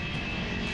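A US Air Force aircraft's engines throttle up at a base in Vietnam as it prepares for takeoff. A loud, continuous engine roar with a steady whine fills the short moment, and there is no speech.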